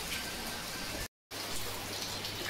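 A torrential downpour drums steadily with a dense, close hiss of falling rain, cut off by a short silent gap before it resumes just as heavily.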